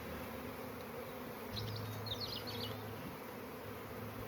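Honeybees buzzing around an open beehive during a brood inspection, a steady close swarm hum with a few sharper wingbeat whines rising over it partway through, no talking.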